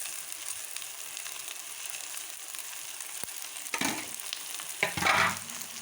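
Mutton sizzling and frying in hot oil with masala for a simple mutton curry, a steady broadband hiss with stirring scrapes and louder bursts toward the end, close and with no talk.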